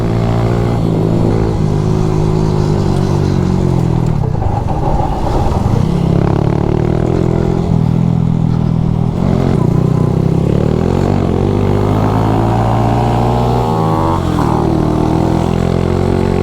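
A Honda CT125 motorcycle engine drones steadily with rising and falling harmonic pitch as it accelerates and revs, loud and close throughout with no talking.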